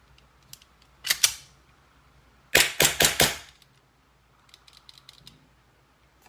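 A G&G GTP9 airsoft pistol fires four quick shots, close and sharp, with a faint mechanical click of the slide jamming afterward.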